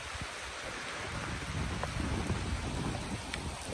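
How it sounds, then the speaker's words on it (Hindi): Heavy monsoon rain pours steadily near Saputara, a dense, continuous hiss with a low rumble beneath, loud and close throughout, with no voices. "धुआंधार बारिश हो रही है यहाँ पे"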